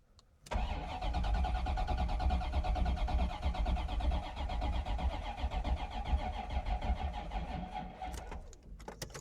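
A car engine with a dead battery cranks steadily for about eight seconds without catching, a loud continuous whirring drone that cuts off abruptly, followed by faint clicks.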